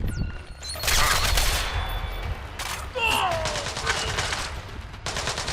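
Sustained bursts of automatic gunfire in Splinter Cell Blacklist, loud and dense, rattling in long volleys with brief lulls between them.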